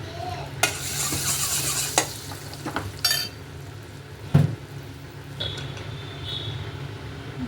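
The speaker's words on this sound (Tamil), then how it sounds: "கடாய் சூடானதும் லைட்டாக ஆயில், பட்டர் ஆட் பண்ணணும்." Butter and oil heat in a hot kadai, giving a soft steady sizzle broken by several sharp utensil scrapes and clinks against the pan, close by with no talk.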